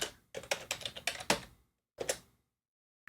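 Close, crisp computer keyboard typing as a new folder name is entered: a rapid run of keystrokes, a pause, then a few more taps, with no voices.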